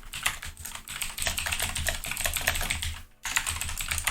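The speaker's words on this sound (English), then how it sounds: "Why am I typing here?" Rapid, steady clatter of keys being typed on a computer keyboard, close and fairly loud, with a brief pause near the end before the typing resumes.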